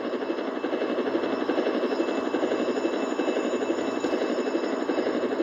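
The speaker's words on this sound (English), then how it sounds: "I got a police chopper." A police helicopter hovers during a video game car chase, its rotor chopping out a steady, fairly loud whir with engine whine that stays constant throughout, with no talking over it.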